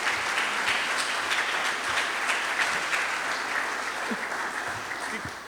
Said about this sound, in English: Please give Ms. Williams a round of applause